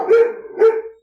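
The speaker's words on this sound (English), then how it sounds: "They're barking at air." Dogs barking indoors, two clear close barks about half a second apart, then quiet.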